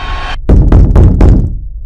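Income tax officers pounding on a door during a raid: three heavy, loud, close knocks in quick succession, booming and resonant, after a brief tonal sound cuts off.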